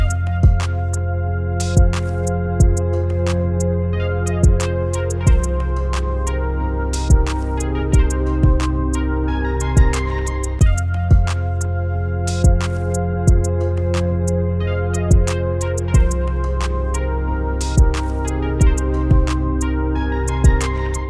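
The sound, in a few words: lead from Ocean Swift Porphyra wavetable synth preset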